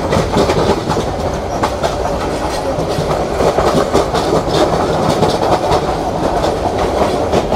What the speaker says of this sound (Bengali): ও, এটা হচ্ছে হাওড়া এক্সপ্রেস, মোহনগঞ্জ থেকে ঢাকাগামী হাওড়া এক্সপ্রেস।